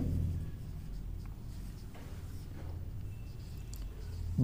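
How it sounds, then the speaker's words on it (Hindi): Chalk or marker scratches across a board during a Hindi grammar lesson, soft intermittent strokes in short bursts over a low background hum, with no talking. "अब देखिए इसकी पहचान लिखते हैं पहले।"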